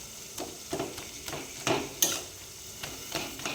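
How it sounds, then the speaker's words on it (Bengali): Methi greens are stirred in a frying pan with a spatula, giving soft scrapes and taps at an uneven rhythm over a faint sizzle, close and quiet. "এখন একটু ঘাটা ঘাটা করে দেবো"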